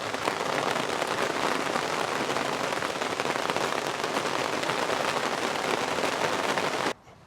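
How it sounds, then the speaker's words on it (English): Heavy Wisconsin rainstorm pouring down, a loud, dense crackling hiss of drops on surfaces that holds steady for several seconds and then cuts off abruptly near the end. "This rain is really coming down."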